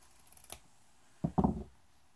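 Scissors cutting material for a Regency hat base: a single sharp snip, then a quiet pause and a short double-crunching cut, close and dry.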